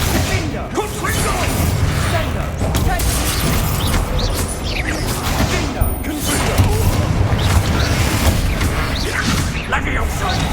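Confringo fire-blast spells cast repeatedly during a Hogwarts Legacy duel, with dense booms, whooshes and crashes filling a loud, continuous battle soundscape under occasional talk.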